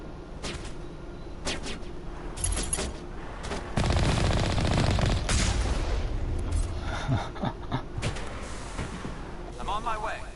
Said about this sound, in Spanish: Yo escucho disparos, pero no sé de dónde.